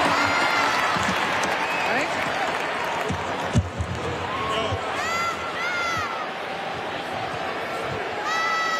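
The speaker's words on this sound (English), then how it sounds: "I was so glad to hear you have that great round of applause for Lisa Cupid" A large outdoor crowd applauds and cheers at the Atlanta Braves World Series victory parade in Cobb County. The clapping is steady and sustained, with whistles and scattered shouts throughout.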